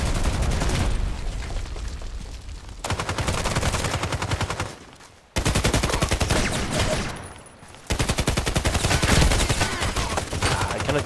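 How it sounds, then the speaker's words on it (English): Sustained bursts of machine gun fire in the video game Contract Wars rattle loudly and rapidly, broken into several long volleys separated by brief pauses. "I cannot use the iron sight with this machine gun."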